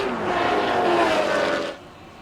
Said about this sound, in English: You know you're in presence of a V12 with that noise, don't you?